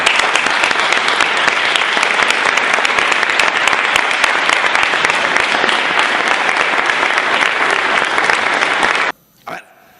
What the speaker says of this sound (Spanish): Un aplauso de todo.